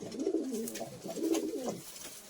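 Two drawn-out, throaty coos from Madras pigeons sound up close, each one swelling and fading, with a brief gap between them.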